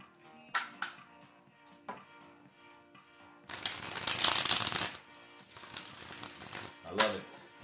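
Tarot cards cut and shuffled in a riffle-like burst, with a long dense rustle of cards in the middle and a few sharp card taps around it, close and fairly quiet, with some talk.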